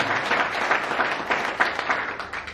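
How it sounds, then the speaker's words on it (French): Applause from the audience at a community association gathering, with moderately loud clapping that rises and falls in small bursts of distinct hand claps for a couple of seconds. "Applaudissez"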